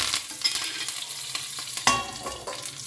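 Cumin, garlic, curry leaves and dried red chillies fry in hot oil in a pan, giving a close, continuous sizzle with a few scraping stirs, no voices.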